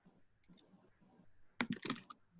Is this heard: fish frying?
no